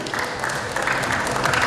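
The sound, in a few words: applause for Sky Property team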